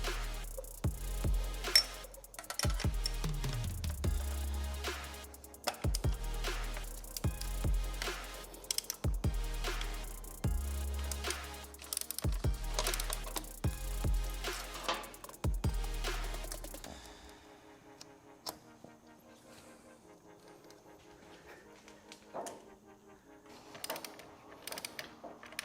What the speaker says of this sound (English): we'll need a 13mm wrench on the back side for the nuts and a 6mm Allen